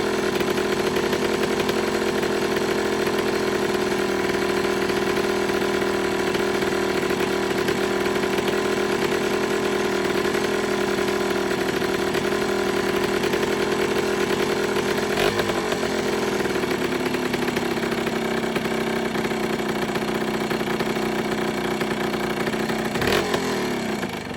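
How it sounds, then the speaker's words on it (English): A budget-repaired ATV engine idles roughly in a steady, loud, buzzing drone that wavers and briefly dips in pitch partway through, heard up close with no talking. "let me see if I can tune this in a little bit to idle"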